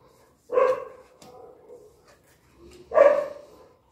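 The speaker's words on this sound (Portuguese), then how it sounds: "Cachorro pode latir, gato pode pular na mesa." A dog barks indoors in a home, two loud, close barks spaced a couple of seconds apart with quieter rustling between them.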